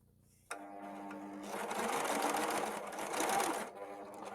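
A Husqvarna Viking Overlock S100 overlocker with its elastic foot stitches elastic: a sudden start, then a fast steady motor hum and rapid needle chatter that builds and runs alone for several seconds before easing off.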